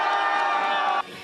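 A crowd at a mountain trout festival shouts a loud cheer together with hands raised, right after a bare-hand trout-catching session. The roar is dense and sustained for about a second, then cuts off sharply to quieter background.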